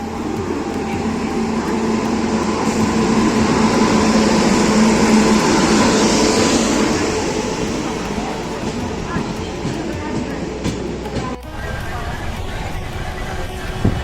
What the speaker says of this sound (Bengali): 4 ঘন্টা ডানকুনি স্টেশনে অপেক্ষা করার পর ট্রেনটা ফাইনালি এলো